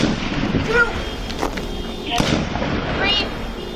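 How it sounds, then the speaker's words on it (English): Several gunshots ring out during a police response to a mass shooter in Minnesota, sounding like sniper rifle fire. A few sharp, echoing cracks come at irregular intervals, moderately distant, under radio chatter and background talk. "Shots fired, shots fired."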